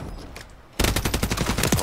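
Rapid bursts of gunfire in the Warzone video game erupt suddenly after a near-silent stretch, loud and dense with repeated shots running continuously to the end.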